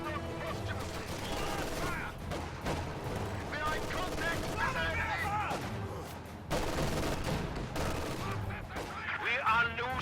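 Two squads of grenadiers armed with light machine guns fire in a video game battle, producing rapid bursts and scattered shots layered with other combat noise and voices throughout.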